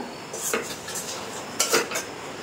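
Crispy gaja sweets, a fried sugar-coated Bengali snack, tipped from a pan onto a plate, giving two clattering bursts of hard pieces tumbling against metal and dish, with quieter rattling in between.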